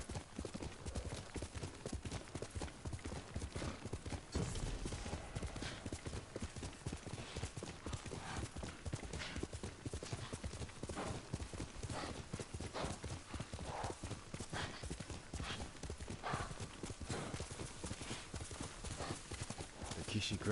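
A horse gallops in the video game Ghost of Tsushima, its hoofbeats a rapid, continuous clip-clop that runs the whole time at steady volume, with occasional whinnies and voices talking over it.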